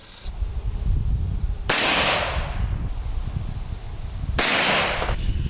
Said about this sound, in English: I'm gonna have her shoot the cowboy gun. I got a 357 Smith & Wesson.